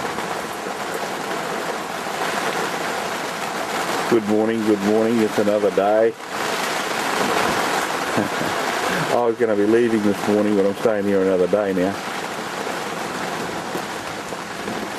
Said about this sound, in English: And with the rain spitting on the roof,